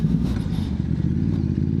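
Ducati DesertX adventure motorcycle ridden off-road at an adventure camp, its engine a steady, close rumble with a rattling clatter throughout and no voices.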